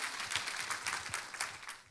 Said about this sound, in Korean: 여러분께서 격려의 박수로 목사님 힘있게 말씀 전하시라고 다시 한번